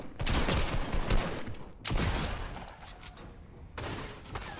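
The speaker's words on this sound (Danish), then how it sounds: "Et shotgun skud." Gunfire in the video game Fortnite, likely shotgun blasts: several loud, sharp bursts come in quick succession, each trailing into a noisy decay, with no voices.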